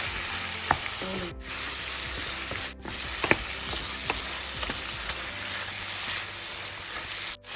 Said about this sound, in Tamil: அழகாக அதில் போட்டு நம்ம அழகாக வதக்கிக்கலாம்